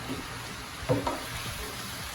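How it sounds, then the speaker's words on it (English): Potatoes and onions fry in a single pot with a soft, continuous sizzle, close and even, with a brief louder crackle of stirring near the middle and no talking. "we're going to allow these potatoes and the onions to cook off in here"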